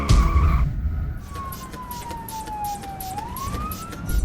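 An ambulance siren in a TV series scene wails with one slow falling then rising tone, moderately loud beneath ambient noise and a rhythmic pulse, after a brief louder burst at the start.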